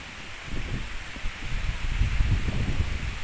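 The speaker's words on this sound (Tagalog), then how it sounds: "Super lakas ang hangin." Strong wind blowing on a mountainside, a steady broadband rush with louder gusts and low buffeting rumble building in the second half, no voices.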